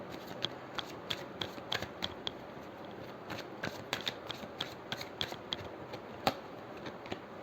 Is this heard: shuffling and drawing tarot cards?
yes